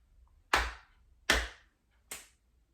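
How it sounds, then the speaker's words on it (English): Body percussion at a slow, even pace: two sharp, close hand slaps or claps, then a third a little softer after a longer gap, each ringing briefly in a quiet room with no talking. "Pat, pat, clap, clap."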